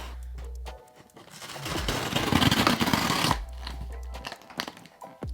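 An Amazon package holding a Bluetooth speaker and dongles is opened, a loud close burst of tearing and crinkling packaging between quieter handling rustles.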